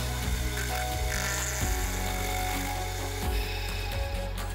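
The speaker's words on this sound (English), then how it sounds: "I set the work on a 10-degree angle in the vise and then mill the datum face." A vertical milling machine cuts the datum face of a workpiece clamped at a 10-degree angle in a vise, giving a steady, continuous grinding hum with a whirring cutter tone throughout, close and even with no talking.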